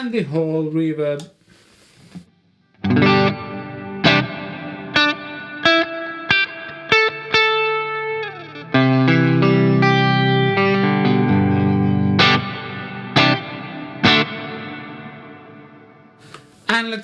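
Electric guitar run through the delay and reverb of a Nux Cerberus pedal: sharp strummed chords and stabs with washy echoes and a lingering reverb tail between hits, loud and close, played alone without talk.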